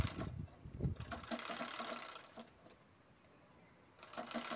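Short bursts of quiet mechanical whirring and ticking come from a sewing machine stitching a fabric ladies' purse, starting and stopping with brief pauses between runs.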